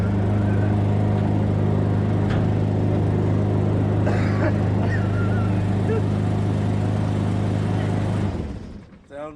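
An abandoned 1967 Ford Mustang dirt track car's engine runs at a steady, loud, droning idle for several seconds, then cuts out abruptly just before the end.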